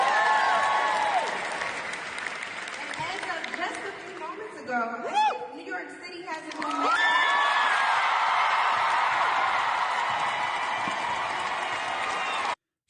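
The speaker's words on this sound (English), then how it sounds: "So they're cheering for a guy, Jay Jones, the Attorney General in Virginia" Election night crowd cheering and applauding for Virginia Attorney General-elect Jay Jones, a loud sustained wash of clapping and whoops that dips briefly in the middle with a few yells, then surges back full and steady.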